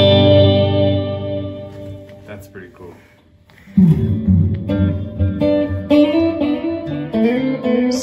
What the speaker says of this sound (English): So that's reverb, a chorus effect, and an echo, all being processed at the same time.